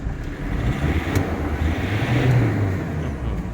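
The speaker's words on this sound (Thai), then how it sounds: "เร่งเครื่องให้ดูหน่อยดีกว่า" A car engine revs hard for several seconds, a steady loud roar that swells near the middle, close by with no talk; the car is equipped with ABS brakes and airbags.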